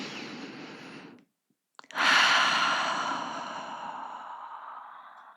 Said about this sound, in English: How about we take a couple of really deep breaths together?